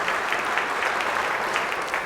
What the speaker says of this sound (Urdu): پارٹیسپینٹ بی کے لیے تالیاں ہونی چاہیے